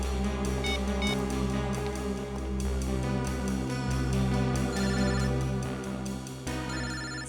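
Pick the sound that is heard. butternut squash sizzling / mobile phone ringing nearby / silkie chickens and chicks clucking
mobile phone ringing nearby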